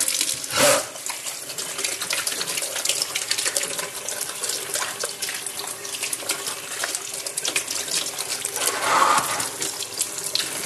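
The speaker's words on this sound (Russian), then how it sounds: "Моем их, пока они еще замороженные и не отошли." Tap water running steadily into a sink while frozen apples are washed under it, a close continuous splashing stream with a couple of louder gushes.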